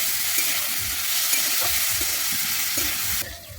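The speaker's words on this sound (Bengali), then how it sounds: "আমি সবজিটা কিন্তু এখানে খুব ভালোভাবে ভেজে নেব" Mixed vegetables with salt stir-fry for Bengali dal, a close steady sizzle with repeated rhythmic scraping of the spoon, fading quieter at the very end.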